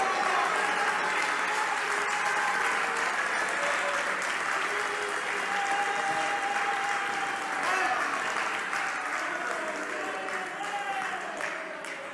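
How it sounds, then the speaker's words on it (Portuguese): A church congregation applauds, with sustained, dense clapping from many hands that fills the room and tapers slightly toward the end, and voices can be heard within the crowd. "Aplaudam ao Senhor Jesus Cristo"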